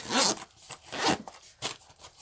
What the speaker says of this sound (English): and then there's a zipper on the side.